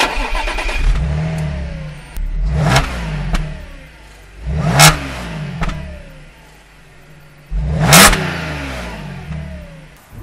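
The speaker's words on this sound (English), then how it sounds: "a cold start so you can hear what it sounds like before we change the exhaust" An Audi with its stock exhaust runs from a cold start, the engine idling between three sharp, rising revs, loud and close with no talking.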